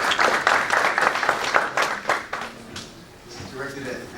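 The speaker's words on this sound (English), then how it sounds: "I'm gonna keep in the unessential clapping." An audience at a comic-con panel breaks into a burst of clapping that thins out over a few seconds, mixed with nearby voices talking and laughing.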